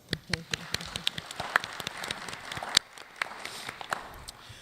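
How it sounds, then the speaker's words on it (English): Symposium audience on K-12 education gives a round of applause: scattered, fairly faint claps at an uneven rhythm, rather than a dense ovation. "Let's give them a round of applause."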